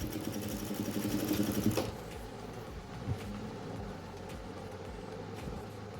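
A sewing machine stitches a lungi hem, running in a fast rattling burst for about two seconds before stopping, followed by quieter handling noises and a faint background hum.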